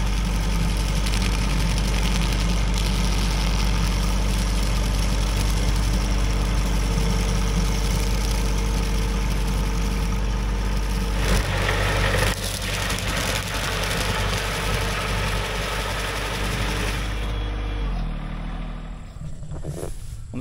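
A DR 3-point hitch trimmer mower runs on a John Deere 1023E subcompact tractor along an electric fence, a loud, steady low engine drone with a whirring blade that shifts and eases off toward the end.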